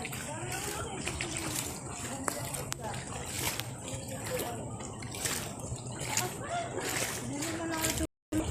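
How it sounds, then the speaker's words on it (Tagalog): Constant churning rush of rising floodwater with occasional splashes, loud and close, while people talk over the noise. "Sumasam pa na yung tubig."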